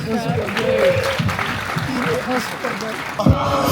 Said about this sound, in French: On peut applaudir Elise